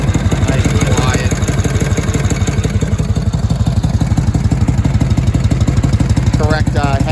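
A 1971 Harley-Davidson FX with its correct header and M51V Harley-Davidson muffler idles nearby, a steady low, loping thump that runs throughout the clip, with a person talking faintly in places.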